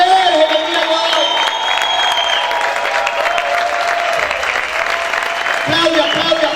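A church congregation claps loudly in praise during a Spanish-language worship service, steady and sustained, with sustained tones from music or voices running over the clapping.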